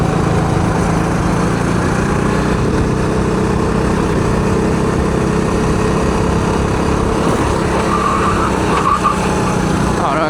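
A go-kart engine drones loud and close on the Muret karting circuit, a continuous buzzing roar that holds steady throughout with slight shifts in pitch, no pauses or talk breaking through.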